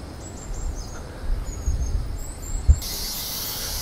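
Birds chirp faintly outdoors in the morning: a few thin, high tweets scattered over a soft background rustle, with a brief rise in bird noise near the end.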